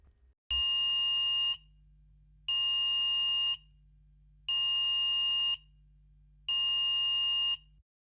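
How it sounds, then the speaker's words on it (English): Fire evacuation alarm tone from a Cerberus PRO building alarm system, sounding as four loud, identical electronic bursts of about a second each, separated by short silences, with a steady low hum underneath. "The sequence starts with an evacuation tone."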